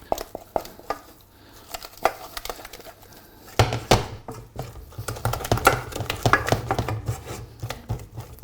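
Choux pastry dough of flour cooking in a pan being stirred, giving a run of soft scraping, slapping and patting strokes against the pan that grow busier and louder partway through, with no talk.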